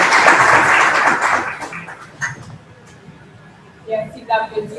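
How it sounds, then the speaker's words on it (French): A lecture audience applauds the speaker in a dense burst of clapping that fades out after about two seconds, leaving a quiet room with a few stray sounds and a voice starting to talk. "Merci d'applaudir encore une fois le conférencier."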